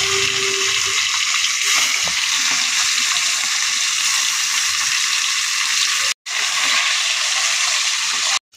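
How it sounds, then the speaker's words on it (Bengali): Pieces of hilsa fish frying one by one in hot oil in a wok, a steady broadband sizzle with faint spatters that runs nearly the whole time, cutting out briefly twice near the end. "প্রথমে কড়াইতে তেল দিয়ে নিলাম, একটা একটা করে ভেজে নিচ্ছি"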